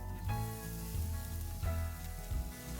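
Onions sautéing in chili oil, a brief, steady, close sizzle and crackle with a few soft stirring bumps and no voices.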